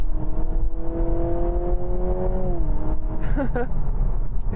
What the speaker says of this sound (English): And the noise, it's digitized, this noise. It's played through the speakers.